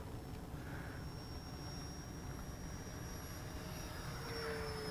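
Freewing Rebel V2 RC jet plane in flight, a steady, fairly loud broadband engine whine and rush that holds evenly throughout, slightly swelling toward the end, with no talk.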